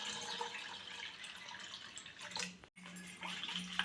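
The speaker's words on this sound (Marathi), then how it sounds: "दही आता आपलं छान फेटून झालंय. त्याच्यामध्ये आपण घालणार आहोत पाणी" Water trickles and splashes faintly into a bowl of whisked curd in a home kitchen while buttermilk for Maharashtrian kadhi is being made, a soft, close, continuous pour with a brief break near the end.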